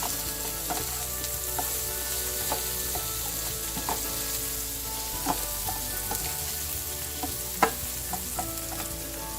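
Onions and turmeric-coated red potatoes frying together in a pan for a dry red chilli beef masala, a continuous bright sizzle with scattered pops and occasional utensil taps, close and even throughout with no voices.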